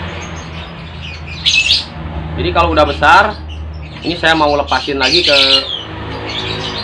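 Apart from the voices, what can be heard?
baby Paok Pancawarna (pitta) bird chirping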